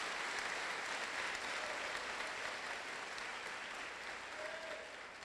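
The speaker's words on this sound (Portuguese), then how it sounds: "Agora aplauda bem forte ao Senhor" A congregation applauds loudly during a church service, a dense, sustained wash of many hands clapping together that eases slightly toward the end.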